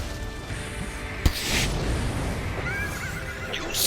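A horse in the video game Nioh on PS4 Pro neighs in a high, wavering whinny, alongside a sharp impact thud and mechanical game sounds.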